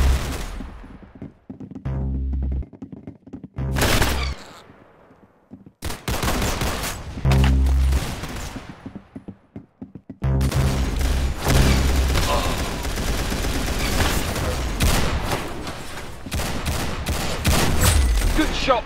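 Gunfire in the video game Arsenal: loud, close single shots and rapid automatic bursts, some spaced with silent gaps, then a dense continuous stretch of fire, with players' voices talking over it.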